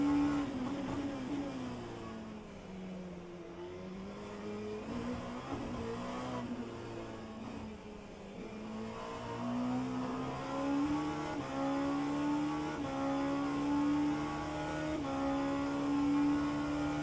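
A GTE-class race car in the rFactor 2 racing sim at Sebring holds a loud, steady engine note that climbs through the gears, with rising revs and shifts over about seventeen seconds and no break in the drone.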